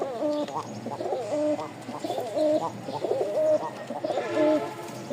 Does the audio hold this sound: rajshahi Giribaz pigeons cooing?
yes